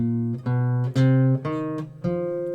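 A run of single guitar notes moving up the F blues scale, each plucked and ringing briefly before the next, clear and close.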